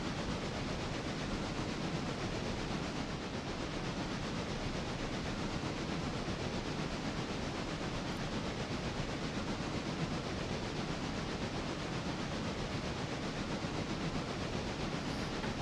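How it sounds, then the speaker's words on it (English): A light passenger train runs in the railway video game Railroader, giving a continuous broad rumble and hiss that stays steady and even throughout, with no voices. "Thankfully, the passenger train's pretty light, so I can haul up here without much of a problem"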